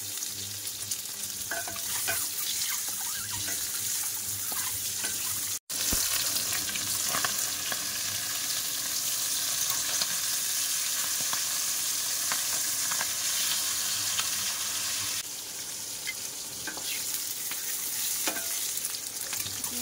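Steady, loud sizzling of food frying in a pan, with salt added and onion, ginger and garlic to follow, continuous throughout with a brief dropout near the start and occasional stirring scrapes.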